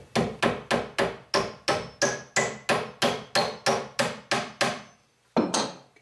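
Steady, evenly spaced hammer blows drive a fastener into plywood for a bed platform, about sixteen sharp strikes close by, a brief pause, then one more hit, with no talk.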